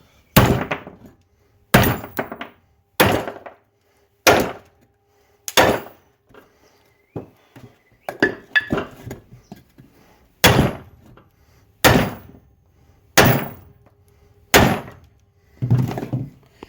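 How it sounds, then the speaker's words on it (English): Heavy metallic thwacks of a hammer driving wheel studs into a mobile home's brake hub, about a dozen loud blows spaced roughly a second or two apart, with brief ringing after each hit. "just give them a couple good thwacks and they're going to pop right in"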